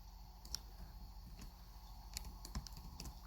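Faint, sparse clicking of a computer keyboard as code is typed in a Git Bash tutorial. The keystrokes come in small irregular bursts over a quiet room hum.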